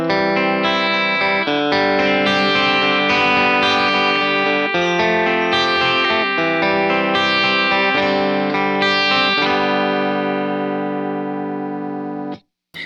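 Electric guitar through a Strymon Iridium amp simulator pedal, strummed chords with a full, lightly overdriven tone ringing out loud and close for about twelve seconds before cutting off, with no talking.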